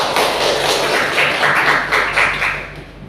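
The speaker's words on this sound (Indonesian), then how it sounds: "kita beri aplaus dulu pada" A classroom audience of students claps together in a short burst of applause during a civics lesson, the claps dense and close, fading out near the end.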